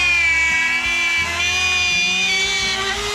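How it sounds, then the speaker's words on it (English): A Dremel rotary tool carves wood for a wood spirit face, a loud high whine lasting about three seconds that dips briefly in pitch as the bit presses in, with no talk. "And make that Dremel sing,"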